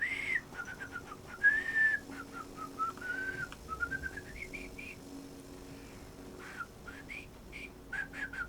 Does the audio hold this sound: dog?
no